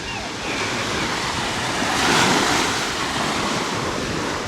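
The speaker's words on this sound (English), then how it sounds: "There's a nice ocean." Ocean waves washing continuously onto Rimini beach in Italy, a steady broad roar that swells slightly in the middle, with wind buffeting the microphone and no one speaking.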